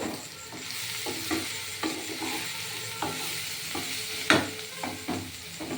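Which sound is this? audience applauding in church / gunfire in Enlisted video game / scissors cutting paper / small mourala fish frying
small mourala fish frying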